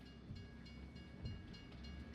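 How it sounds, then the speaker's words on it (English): A train rumbles past in the farming video game Farming Simulator 22 on the Haut-Beyleron map, a faint, steady low rolling drone with soft rhythmic clatter and no speech. "train coming through."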